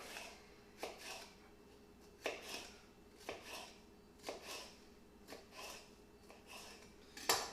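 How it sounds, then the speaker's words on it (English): A knife slices through a yellow pepper on a board: crisp, close cuts and light scrapes land in a steady rhythm, about one every second, each with a short knock and a faint crunch. "I've got my yellow pepper all sliced up and cleaned"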